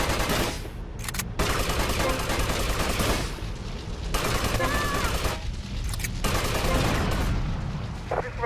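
Bursts of gunfire ring out in GTA Vice City, with loud rapid volleys broken by short gaps, a dense rattling barrage that starts, stops and resumes several times, layered over game ambience.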